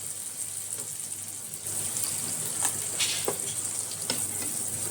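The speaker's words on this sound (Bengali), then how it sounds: "এবার দিয়ে দেবো একটা কুচানো টমেটো কুচিয়ে রেখেছিলাম টমেটোটা দিয়ে দিলাম একটুখানি লবণ দিয়ে দেবো" Chopped tomato with salt sizzles in a pan of fried onions, a dense, fairly loud hiss that steps up partway through, with light stirring scrapes over it.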